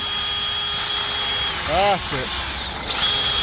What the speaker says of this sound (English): Max is busy cleaning the shaft up there now with the drill